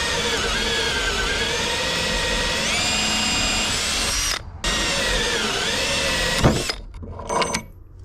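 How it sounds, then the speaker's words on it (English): Power drill boring a hole with a 1/2 inch Forstner bit while a router sled is built: a steady, loud whine holds for several seconds, dips briefly, then winds down and stops near the end. "And drill a hole right through it."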